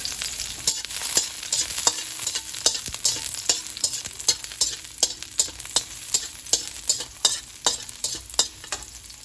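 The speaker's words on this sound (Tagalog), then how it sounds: "Ayan, magigisa na tayo." Garlic sizzles in hot oil as it is sautéed for a Filipino labong and santol dish with shrimp, a steady frying crackle punctuated by regular scraping stirs of the spatula, close and without talk.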